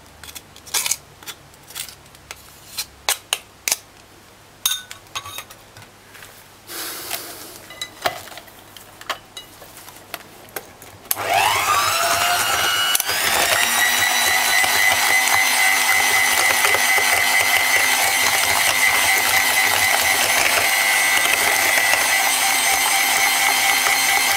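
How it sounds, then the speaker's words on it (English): Banana bread batter gets clattery scraping first, then an electric mixer whirs on abruptly and runs as a loud, steady high-pitched whine through the rest of the clip. "we're going to use a mixer just to give it a thorough mix"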